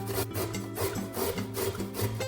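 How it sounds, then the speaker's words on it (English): Peeled carrots are finely grated in rhythmic back-and-forth rasping strokes, close and steady, with a musical tone running underneath and no talking. "Then you'll wash, peel, and finely grate the carrots."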